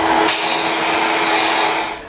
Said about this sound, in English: So let's quickly sandblast it a bit so we can weld on it.